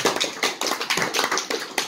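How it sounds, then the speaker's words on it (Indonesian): Audience members at a farewell event in a theater for a West Java baseball team and an Asian Games athlete clap in quick, uneven bursts, a short patter of hands at moderate loudness. "Tepuk tangan dong"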